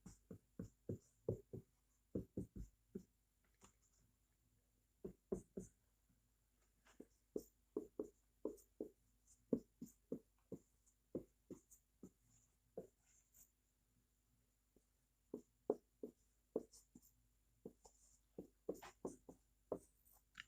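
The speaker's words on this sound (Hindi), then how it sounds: "मैं जल्दी से लिख देता हूँ।" Pen strokes on paper as someone writes the alphabet letters by hand, quick soft scratches in short irregular bursts, close and faint, with no talking.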